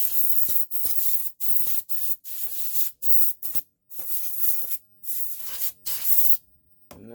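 Cleaning spray is squirted over IT equipment in repeated hissing bursts, each a second or so long and separated by short silences, loud and close with no talking.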